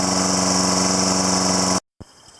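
A Toro lawn mower engine runs loud and steady with a rapid even putter, then cuts off abruptly near the end, leaving a faint thump and quiet background.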